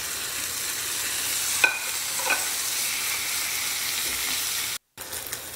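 Onion and cubed meat fry in a pan with a steady, close hiss, broken by two soft stirring scrapes and a brief dropout near the end.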